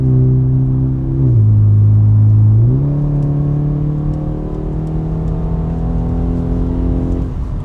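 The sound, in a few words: modern BMW car engine accelerating while driving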